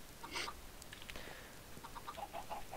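Chickens cluck in the Minecraft video game, a few short soft clucks scattered over a quiet background with no talking.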